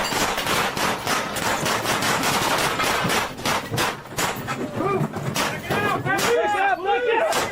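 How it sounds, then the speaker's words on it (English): Gunfire during a police raid on a garage: rapid, loud bursts of shots repeat over several seconds, with voices talking and shouting in between. "Why are we still shooting, man? Is that him shooting?"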